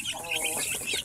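Young Rhode Island Red chicks, under a month old, peeping in a busy chorus of overlapping high, shrill chirps, close and steady throughout.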